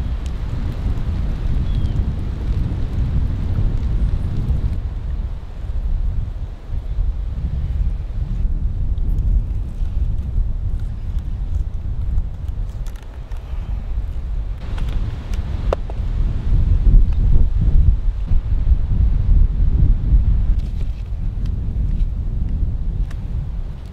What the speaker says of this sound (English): It is raining, everyone.